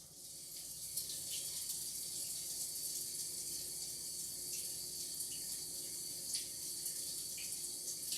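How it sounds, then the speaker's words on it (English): A kitchen tap runs steadily into a sink while a tablespoon is washed, a soft continuous hiss of water with faint clinks, fairly quiet and close. "I'm going to wash this tablespoon though."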